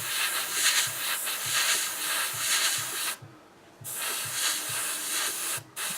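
Airbrush or spray gun laying down a light first coat of Hataka Red Line paint, a steady close hiss running almost continuously, broken by one longer pause in the middle and a brief gap near the end.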